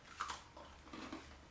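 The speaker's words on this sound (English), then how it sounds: "The crunch." A crunchy bite into cashew-topped pumpkin pie, a couple of soft close crunches and chewing noises, quiet and alone.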